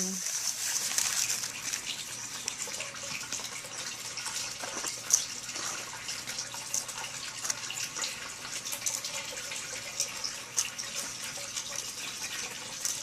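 Water and paydirt are poured through a classifier screen, giving a steady splashing, trickling rush with small gritty knocks, close and moderately loud, with someone talking intermittently over it.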